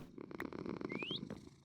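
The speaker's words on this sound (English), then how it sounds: "Yes, you're purring." Cat purring in a Minecraft game, a soft continuous low rumble under busy game sounds, with a short rising whistle-like tone near the middle.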